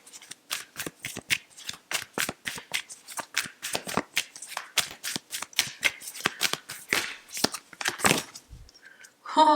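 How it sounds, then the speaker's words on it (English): Oracle cards being shuffled by hand in a quiet room, a long run of quick, crisp riffling flutters close to the listener, repeated in uneven bursts for several seconds. "I was sitting here thinking about this card as I was shuffling"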